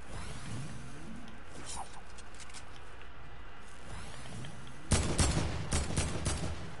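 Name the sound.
SMG gunfire in a video game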